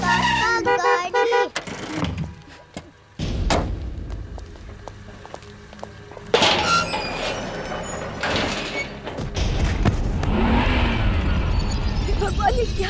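A car drives past on a street, its engine and road noise rising and falling with a sharp knock partway through, under loud scene ambience with no talk.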